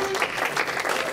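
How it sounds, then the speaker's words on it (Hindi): An audience gives a guest a big round of applause at a stage show. The clapping is brief, dense and close, with a faint voice briefly audible under it. "इन्हें इनके लिए ढेर सारी तालियां"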